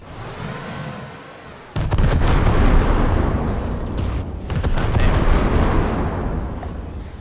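Missiles launching and exploding in a steampunk-themed Wreckfest car-combat game, a dense sustained roar of blasts that erupts abruptly after a quieter rumbling stretch and stays loud and continuous.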